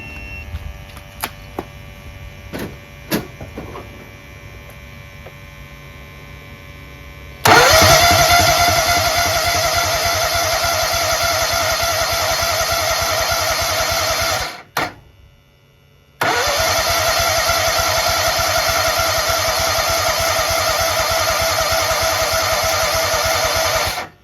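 A Kohler EFI engine, just repaired with a new high-pressure fuel pump, starts after a few faint clicks and settles into a loud, steady idle. It cuts out briefly near the middle, then fires up again and keeps running.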